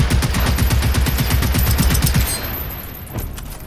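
Bursts of rapid automatic gunfire from the video game Generation Zero, loud and close, rattling hard for about two seconds before easing into a quieter tail.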